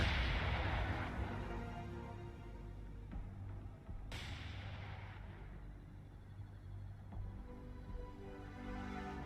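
Naval gunfire in War on the Sea booms out as a couple of distinct heavy shots, spaced apart over a steady low engine-like drone, fairly faint overall.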